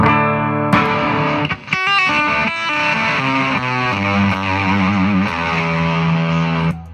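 An electric guitar played through a thick, buzzing octave-up fuzz pedal, chords and bending notes ringing loud and saturated with a bright, octave-like edge.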